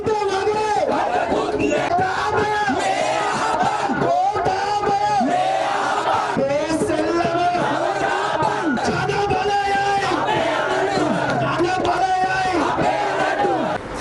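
Young protesters marching from Kandy to a protest site in Sri Lanka, a large crowd chanting and shouting in a steady, loud, rhythmic roar that continues without a break.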